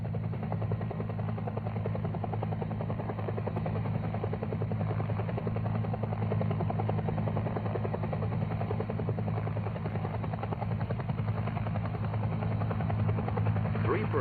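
A military helicopter hovers over a jungle landing zone above the treetops during a team extraction, its rotor and engine producing a steady, loud, continuous drone with rhythmic blade chop throughout.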